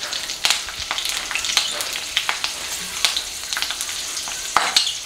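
Cumin seeds, bay leaf and green chilies crackle in hot oil in a kadhai, a lively close sizzle peppered with sharp pops and spits, no voices over it.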